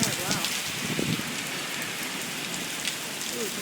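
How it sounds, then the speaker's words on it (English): Heavy rain pours hard in Florida, a dense, loud steady hiss of drops on surfaces, with a voice speaking faintly beneath it. "It's just raining so hard."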